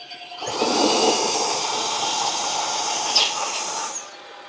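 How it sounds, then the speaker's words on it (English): A Tineco Pro 7 wet-dry floor cleaner runs with its water pump engaged, giving a steady, loud hissing whir that starts abruptly, holds evenly for several seconds and then cuts off. "So I think this noise is the noise of the water pump. It's again pumping water."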